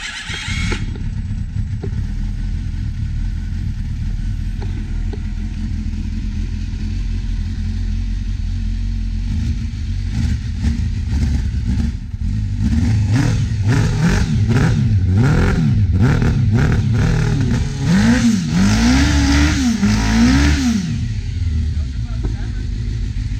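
A Suzuki GSXR1000 motorcycle engine runs at close range after a starter replacement, idling steadily before a series of loud, repeated throttle revs rise and fall toward the end.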